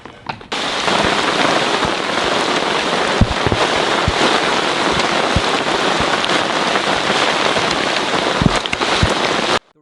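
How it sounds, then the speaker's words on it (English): Heavy rain turning to hail pours loudly and steadily in a forest, with scattered sharper pops and ticks of hailstones bouncing off the forest floor nearby. "The rain turns to hail, bouncing off the forest floor"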